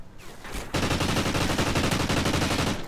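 Rapid automatic gunfire bursts in a competitive online shooter match, starting after a short lull and continuing as a dense, loud, rhythmic rattle of shots.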